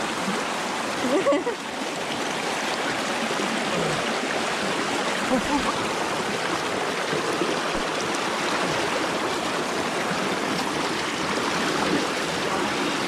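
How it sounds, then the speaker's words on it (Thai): Strong-flowing stream water rushing steadily and loudly at close range, a continuous broadband roar with brief splashes, heard outdoors on a camping trip. "ตรงนี้ก็ไหลแรง จะขวางทางน้ำเลย"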